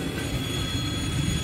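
A freight train passes a railroad crossing with barriers, a steady rumbling roar of rolling cars and wheels, fairly loud and continuous with no talking.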